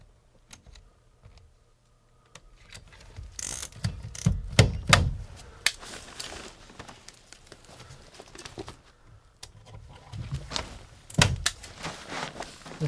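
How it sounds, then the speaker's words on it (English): Zip tie tensioning tool cinching a tie around ductwork insulation during duct sealing, producing a series of close, sharp ratcheting clicks and snaps with bursts of handling noise in a quiet room. "We have a tensioning tool right here."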